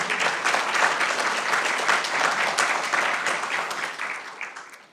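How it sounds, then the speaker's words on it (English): A crowd at a county candidates' forum breaks into a full round of applause, dense and continuous clapping filling the room for several seconds before tapering off at the end. "Let's give Susan a great round of applause."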